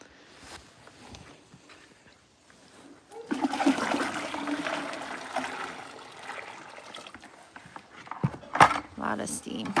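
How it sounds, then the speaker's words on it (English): Hot water gushes and splashes out in a steady pour for several seconds, with a sharper splash and clatter near the end. "So I'm gonna dump some of this hot water,"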